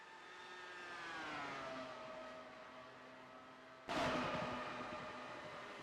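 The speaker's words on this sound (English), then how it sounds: "Swarm of cars going into turn 1." A pack of race cars in an Italian Grand Prix race sweeps into turn one: engines whine at high pitch and shift down, then a loud burst of passing cars swells up near the end.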